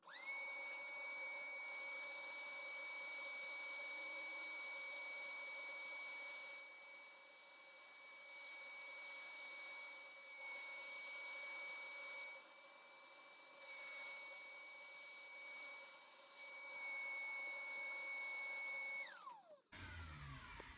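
A high-pitched rotary polishing tool whines steadily for nearly twenty seconds while rounding a metal washer for a Tamiya Mini 4WD car, then spins down abruptly near the end.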